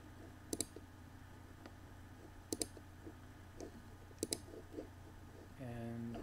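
Mouse clicks on a computer download button, three quick double clicks spaced about two seconds apart, crisp and close over a quiet hum, followed by a brief soft whir at the end.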